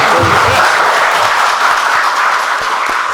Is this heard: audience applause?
yes